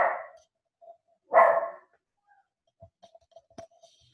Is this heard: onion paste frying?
no